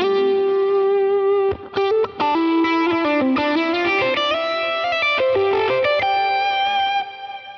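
Stratocaster electric guitar played through a Line 6 Helix with overdrive, ringing chords and melodic lead phrases with sustained, slightly distorted tone and ambient reverb, loud and close with no voices.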